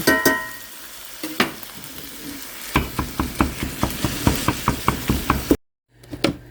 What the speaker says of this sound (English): There is the bacon and the burger. So I'm just frying this up real quick.